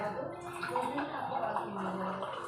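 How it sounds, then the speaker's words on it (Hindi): Water splashes as it is poured out of a glass of purifier drinking water, a short, steady gurgling pour with a voice talking over it. "अब देखिए इसको थोड़ा सा गिरा देती हूँ।"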